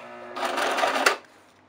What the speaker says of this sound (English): we're going to go up a few stitches, and then we're going to back stitch